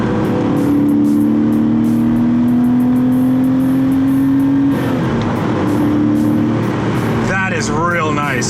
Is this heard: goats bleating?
no